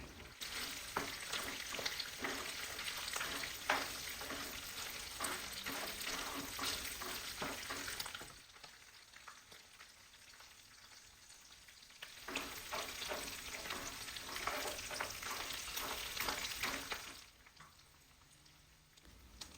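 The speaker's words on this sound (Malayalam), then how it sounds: "ബീഫ് മാത്രം കോരിയിട്ട് ഇതിലേക്ക് ഇട്ടിട്ട് നല്ലോണം ഒന്ന് ഫ്രൈ ചെയ്തെടുക്കാം നല്ല ഫ്ലെയിം കൂട്ടി വെച്ചിട്ട് തന്നെ" Beef pieces fry over a high flame for pulao, a dense crackling sizzle with stirring scrapes, easing to a quieter simmer midway before the loud frying returns.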